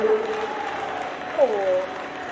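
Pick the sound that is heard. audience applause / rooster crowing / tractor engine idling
audience applause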